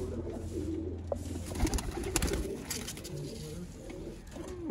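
Pigeons coo in low, rolling calls nearby, several overlapping murmurs with light rustling and a faint voice in the background.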